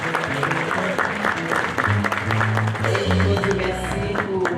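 A church congregation applauding during an anniversary worship service, with clapping spread through the room under a sustained organ or keyboard chord and some voices.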